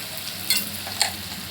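Browned onions fry in a pan as Kashmiri red chilli powder is stirred in, giving a close, steady sizzle. Two brief scraping stirs break through in a short stretch with no talking.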